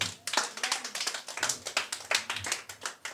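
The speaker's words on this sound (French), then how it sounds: "On acclame le Seigneur Jésus-Christ" A church congregation claps together in acclaim during a worship service, with a quick, even rhythm of sharp claps that is fairly close and carries on without pause.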